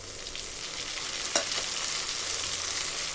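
Ripe tomato, finely chopped, sautéing with onions in a pan for drumstick kara kulambu, giving a steady close sizzle with a brief stir scrape partway through.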